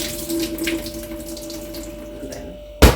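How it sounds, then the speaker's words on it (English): Water is poured out of a bowl in a kitchen while rice is washed, a close running splash that fades before a sudden loud knock at the end. "I'm gonna pour some of this water out"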